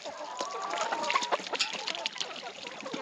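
Water splashing from a garden hose on a farm after a pump failure, a steady broadband rush with sloshing bursts throughout, nearby, with faint bird clucks in the background.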